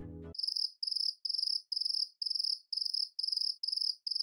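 A cricket chirps in steady, evenly spaced trills, loud and close, repeating about twice per second after a brief burst of noise at the start.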